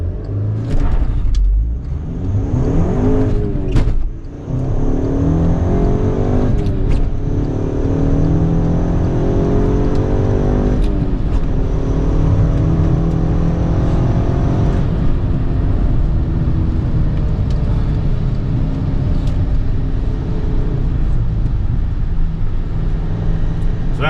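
A VW MK6 GTI with a Cobb Stage 1 tune and a Stage 2 clutch accelerates hard on a quarter-mile run; the engine revs up repeatedly with rising pitch through each gear, loud and close.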